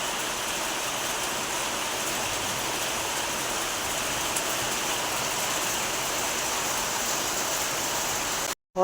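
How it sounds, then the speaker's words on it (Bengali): Rain pouring down during a hot day's sudden downpour, a steady, dense hiss of falling water that holds evenly throughout before cutting off at the very end. "এই যে বৃষ্টি পড়ছে"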